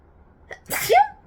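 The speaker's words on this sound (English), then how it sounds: "And I've got the sneezes." A single sharp sneeze, close and loud, with a quick intake of breath just before the burst.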